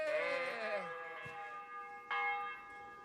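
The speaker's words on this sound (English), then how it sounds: "What's with the sheep?" A sheep bleats in the Kingdom Come Deliverance game, a wavering cry over a constant ringing bell-like drone, followed by short brighter bursts; no talking.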